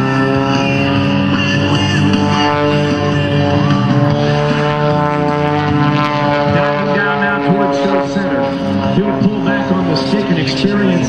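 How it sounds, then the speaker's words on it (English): A loud, steady 300-horsepower propeller aerobatic airplane engine drones throughout at an airshow in Pensacola, its pitch shifting as the aircraft maneuvers, with a commentator talking over it. "This is one incredible pilot with 300 horsepower right now."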